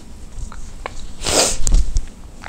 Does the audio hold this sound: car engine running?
no